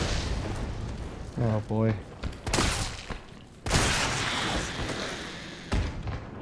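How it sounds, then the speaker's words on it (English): In Resident Evil 3 Remake, two sharp gunshots crack out, followed by the heavier boom of a grenade launcher firing, with a man's brief exclamation in between and some game noise around them. "2 shots and a grenade launcher shot."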